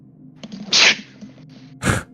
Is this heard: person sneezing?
yes